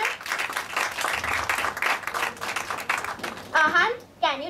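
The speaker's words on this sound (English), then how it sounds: "A big round of applause for the awesome beginning." Moderate audience applause at a school international-mindedness event, steady clapping for a few seconds with voices talking over it, then fading as speech takes over near the end.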